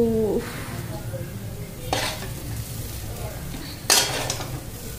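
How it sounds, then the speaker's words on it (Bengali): A flipped roti cooks on a hot pan with a steady, close sizzle, broken by a few sharp utensil scrapes and clatters against the pan. "রুটিটা উল্টায়া দেই, এক পিঠ হয়ে গেছে।"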